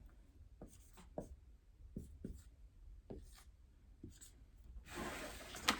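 Marker drawing on a classroom board, with a series of short scratchy strokes separated by pauses, close and fairly clear, and a longer rubbing stretch at the end.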